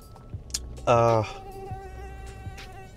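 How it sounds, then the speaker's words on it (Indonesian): Mosquito buzzing inside a Toyota Innova Zenix car cabin: one close, loud whine lasting about a third of a second, with faint background noise before and after. "nyamuk nih."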